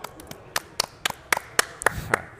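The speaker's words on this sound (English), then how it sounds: "Let's clap for that." Scattered clapping from a small snooker audience, about ten sharp separate claps spread unevenly, fairly close and with no talk.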